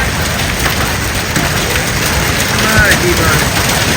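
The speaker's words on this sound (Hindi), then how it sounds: "ये ओले इतने बड़े बड़े थे" A heavy hailstorm with strong wind around the Golra and E-11 area: a loud, continuous hiss and drumming of ice hitting surfaces, steady and dense the whole time.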